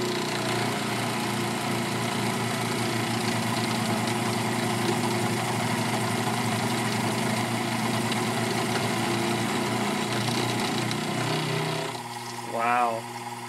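A small Sherline mill roughs aluminum, its steady, even motor hum running alone for about twelve seconds before a brief rising whine near the end.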